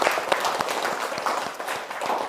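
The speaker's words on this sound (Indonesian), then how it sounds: "Kita beri aplaus dulu." An audience at a lecture session gives a brief burst of applause, dense, moderately loud hand clapping that carries on steadily throughout.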